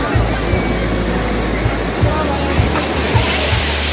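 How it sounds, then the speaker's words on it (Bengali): Ocean waves breaking on the beach at Puri by Swargadwar: a loud, continuous roar of surf with a deep rumbling undertone and repeated low surges. "দীঘার থেকেও পুরীর ঢেউ খুবই খুবই"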